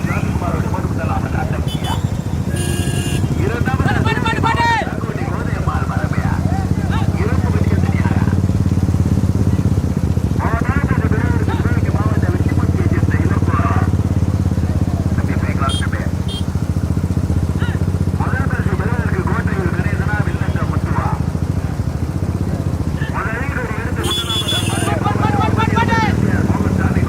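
Motorcycle engines rumble and rev continuously at a racing event in Madurai district, a loud sustained drone with repeated surges as bikes pass, heard under frequent commentary-style talking.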